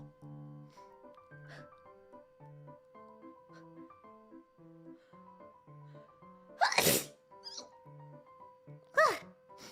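Two sharp, loud sneezes by a person, close, bursting out over soft background music.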